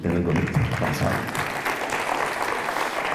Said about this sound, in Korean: 무대에 서는 사람들은 박수 받는 걸 굉장히 좋아하거든요. 그래서 수시로 제가 인사하면 이렇게 박수를 쳐주시면 되는 겁니다